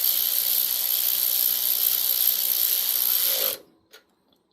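A ratchet snugs bolts on a Briggs & Stratton 12 HP flathead engine, giving a steady, fast, close clicking that stops abruptly and leaves a single soft click.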